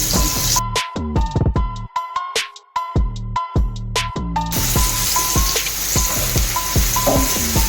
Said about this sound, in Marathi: सगळ्या बाजूने छान असं त्याला फ्राय करून घ्यायचं आहे